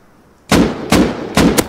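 Three loud, close gunshots from a shooting video game, evenly spaced about half a second apart, each with a sharp attack and short decaying tail, following a quiet lead-in without speech.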